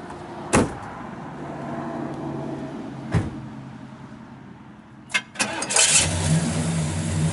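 A 1967 Pontiac GTO engine cranks and catches, then idles with a low steady rumble; a few sharp clunks punctuate it before the motor revs up louder near the end.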